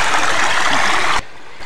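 A Scottish river in Galloway rushes over shallow pebbles, a loud, close, steady broadband wash of flowing water that cuts off abruptly near the end.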